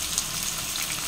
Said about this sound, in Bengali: পেঁয়াজগুলোকে একদম বেরেস্তার মতন ভাজবো, একদম লাল লাল করে বেরেস্তা করে নেবো পুরো পেঁয়াজটা